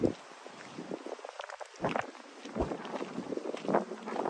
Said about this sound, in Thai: ได้ยินไหมคะทุกคนคะได้ยินเสียงลมไหม เสียงลมนะคะ ทุกคนลมแรงนะวันนี้